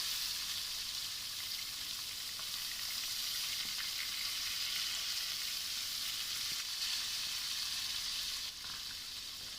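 Fish coated in spices sizzles steadily in a hot pan after lemon juice is poured over it, a dense, even frying hiss that holds for about ten seconds with no talk.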